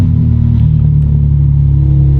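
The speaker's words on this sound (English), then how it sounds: "Here's a startup." A BMW M4 sports car engine idles loudly just after startup, with exhaust open and windows down, giving a deep, steady rumbling burble that stays close and dominant with no talk.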